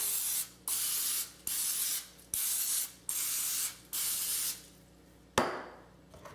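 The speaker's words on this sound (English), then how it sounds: "So I'm gonna give them a quick spray." A can of cooking spray gives repeated short hissing bursts onto baking dishes, about seven quick sprays in a steady rhythm, close and fairly loud with no talking.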